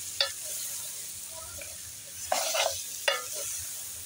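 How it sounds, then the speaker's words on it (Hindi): Chopped tinda is stirred into frying masala in a pan, a steady close sizzle broken by a few short scraping strokes of the spoon, with no talking. "अब इसके अंदर हम डाल देंगे और अच्छे तरीके से इसकी मिक्सिंग करेंगे हम मसाले के अंदर"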